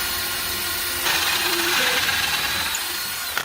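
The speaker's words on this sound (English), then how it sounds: "So this is called a hole saw." A power drill fitted with a hole saw bites into wood, a steady whirring tone that rises into a louder grinding cut partway through, then stops abruptly; close and alone.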